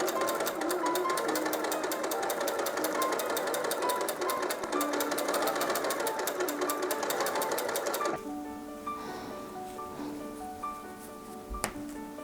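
A sewing machine runs a steady, fast stitching rhythm while joining the front and side-front yoke pieces of a pair of shorts, right sides together. It stays loud and continuous, then drops to a softer, lighter run near the end.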